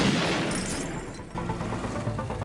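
Rifle fire in a film crackles as a dense, loud fusillade of rapid shots that runs without a break and then cuts off abruptly.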